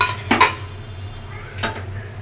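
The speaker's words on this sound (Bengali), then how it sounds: "মরিচের গুঁড়া, ধনে গুঁড়া, গরম মশলা গুঁড়া সব কিছু দিয়ে মাংসটাকে ভালোভাবে এখন কষাবো" Beef is stirred in a pot with turmeric, chilli, coriander and garam masala powders, producing two distinct metallic knocks and clatters of a utensil against the pot, separated by a quieter stretch of low background hum.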